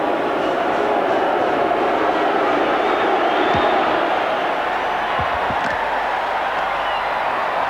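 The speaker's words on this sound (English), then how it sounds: "Already the crowd starting to boo." Large stadium crowd at a 1985 New Zealand versus Australia rugby league test match in Brisbane, a dense, continuous roar of voices that may carry booing, steady and loud throughout with no clear breaks.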